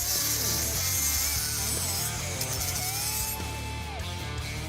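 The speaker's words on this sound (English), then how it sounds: "With it welded together, we can go ahead and dress it up real quick like with a grinder." An angle grinder dresses a fresh weld on a 1970 Dodge Challenger under rebuild, giving a steady, loud, continuous abrasive whine and rasp with shifting pitch and no talking.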